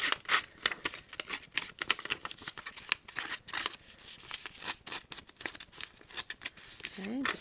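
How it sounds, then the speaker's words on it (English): Sharp, repeated snips of a paper cutter roughing up the edges of first edition designer paper for a rubber-stamped card front, quick uneven cuts close and crisp throughout, with faint voice-like sounds underneath. "I'm going to take my cutter kit and rough up the"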